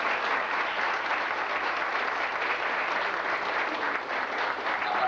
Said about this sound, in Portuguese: Então merece uma outra salva de palmas.